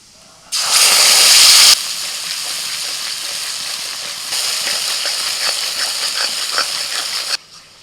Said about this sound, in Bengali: ফোড়ন হয়ে গেছে, গুলে নেওয়া মশলাটা দিয়ে দিচ্ছি।